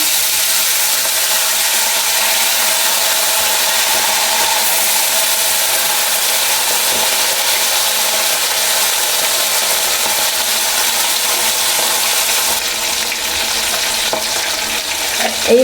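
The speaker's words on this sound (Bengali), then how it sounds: "ওই তেলে বাকি মাছগুলো ছেড়ে দিচ্ছি।" Bata fish fry in hot oil with a loud, continuous, close-up sizzle that holds evenly throughout.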